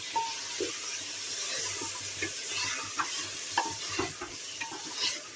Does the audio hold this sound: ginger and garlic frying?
yes